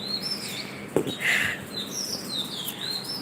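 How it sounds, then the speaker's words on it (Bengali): Small birds chirp and tweet intermittently at a moderate distance, thin high calls over a soft background hum, with one brief knock. "এই যে পাখি ডাকছি"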